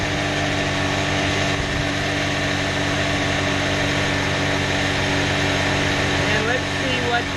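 A Chrysler car with a broken alternator idles as a steady, continuous engine drone that holds even and fairly loud throughout, with faint background voices.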